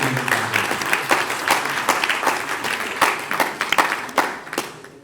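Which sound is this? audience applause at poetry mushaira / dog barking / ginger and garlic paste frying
audience applause at poetry mushaira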